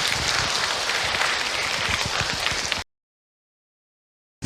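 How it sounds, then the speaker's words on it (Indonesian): An audience applauds Ustaz Zaki Mirza at an Islamic talk, with steady, dense clapping that fills the space and then stops abruptly into silence. "tepuk tangan untuk Ustaz Zaki Mirza"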